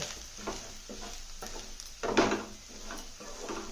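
Chili powder frying in oil with eggplant crackles in a steady close sizzle, overlaid by repeated rhythmic scrapes of a spoon stirring the pan, with one louder scrape partway through.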